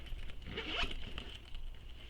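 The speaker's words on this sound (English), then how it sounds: "On one side of the bag, you have this zipper pocket." A zipper slides along the zipper pocket of a handmade tote bag, a close scratchy rasp that swells briefly in the middle against quiet room tone.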